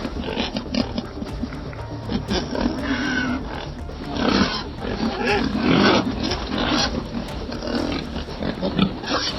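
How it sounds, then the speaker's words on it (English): Wild boars grunt, squeal and roar in a loud, restless commotion at close range while a small group is driven into a trailer in a forest, with shouts and bangs mixed through the clamor. "they use loud noises to herd small groups of boars into the trailer"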